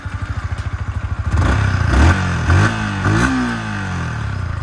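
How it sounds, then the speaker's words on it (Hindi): A 2024 Yamaha R15M motorcycle sits at a pulsing idle, then its exhaust barks through several sharp, loud revs up and down. The recording is close-up, with no talking. "R15 की भी मैं आप लोगों को एक बार सुना करके दिखा देता हूँ कि कैसी इसकी एग्जॉस्ट नोट"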